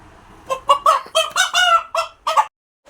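Two roosters cluck up close in a quick series of loud, throaty calls, one after another, then fall silent.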